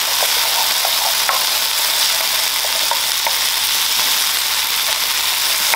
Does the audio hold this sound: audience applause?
no